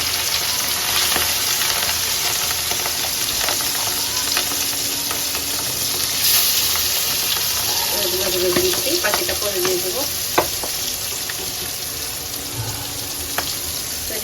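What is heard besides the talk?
raw fish frying in a pan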